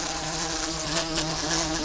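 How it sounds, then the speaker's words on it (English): A large horsefly buzzes loudly and close by, a steady droning hum that holds without a break for about two seconds. "There's been a big one buzzing around me all day long."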